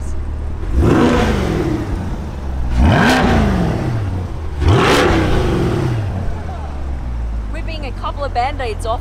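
Chevrolet Corvette Stingray C8 engine revving hard in three loud, rising bursts, each surge climbing and falling away, with brief voices over the tail end.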